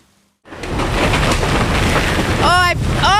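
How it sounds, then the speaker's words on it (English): Strong wind gusts roar and buffet the microphone, a loud continuous rush, with a few brief bursts of a voice near the end. "As you can imagine, I'm struggling to hear you in these wind gusts."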